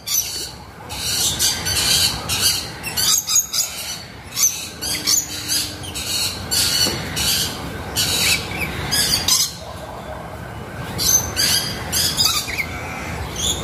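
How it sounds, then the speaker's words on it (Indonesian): Red lory parrots squawk at a zoo aviary, loud harsh calls repeating in irregular bursts over steady background chatter and rustle, with other birds calling nearby. "Yang ni Nuri Merah."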